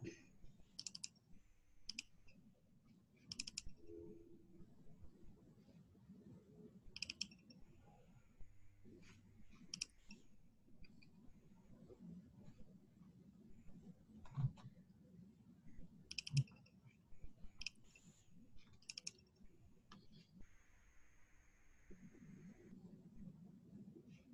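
Faint, irregular clicks of keys being typed on a computer keyboard, in scattered bursts over a quiet background.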